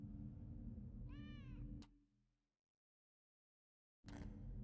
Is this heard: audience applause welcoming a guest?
no